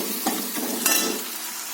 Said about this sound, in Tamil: இஞ்சி பூண்டு பேஸ்ட்டு போட்டு, ஒரே ஒரு பச்சை மிளகாய், 2 பெரிய வெங்காயம், 2 சின்ன தக்காளி போட்டு வணக்கிட்டு இருக்கோம்